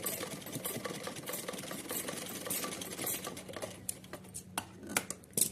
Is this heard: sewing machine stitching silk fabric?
yes